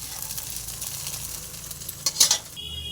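An egg sizzles in hot oil in a pan while being fried for chow mein, giving a soft steady frying hiss with a brief burst of louder crackle near the end.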